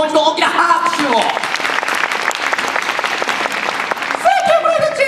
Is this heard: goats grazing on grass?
no